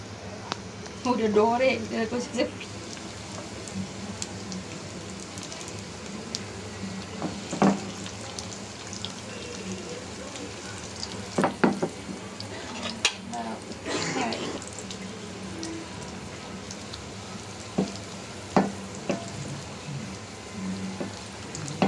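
Food crackles and sizzles in hot oil in a home kitchen, a soft continuous frying hiss punctuated by sharper pops and spatters, with a voice speaking intermittently over it.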